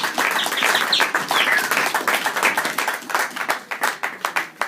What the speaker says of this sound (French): Est-ce que je peux applaudir pour cette parole?